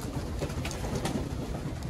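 Pigeons coo softly in the background amid a noisy, muffled outdoor ambience, the calls low and repeated.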